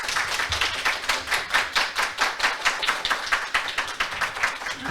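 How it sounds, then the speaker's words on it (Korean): Audience applause at a hospital director's inauguration ceremony at a Seoul Catholic hospital: dense, steady clapping from a crowd, loud and sustained for the whole span with no speech over it. "큰 박수 부탁드리겠습니다."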